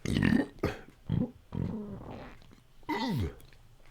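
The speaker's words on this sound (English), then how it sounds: "Excuse me, little burp there." A small, short burp from someone speaking close to the microphone, a few low voiced gurgling bursts in a quiet room.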